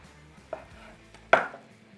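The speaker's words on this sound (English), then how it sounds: "we're gonna take a couple of our dove breasts, and we're gonna slice them" A knife slices dove breasts on a cutting board with two distinct taps close by, the second one sharper and louder, in an otherwise quiet kitchen.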